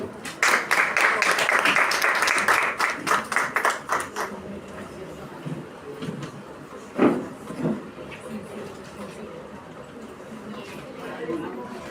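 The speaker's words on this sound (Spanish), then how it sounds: "recibámoslos con un fuerte aplauso" Strong audience applause at an education congress, loud and fast-paced at first, then thinning into scattered claps, footsteps and murmured chatter as people settle.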